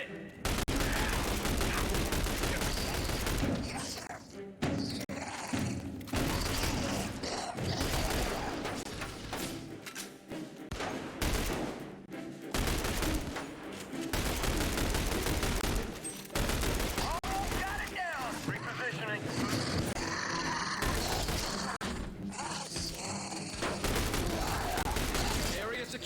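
Heavy gunfire in The Bureau: XCOM, with dense rattling bursts and sustained automatic fire, booming impacts and explosions running continuously with only brief lulls, while voices shout over the combat.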